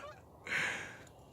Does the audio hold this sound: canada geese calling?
yes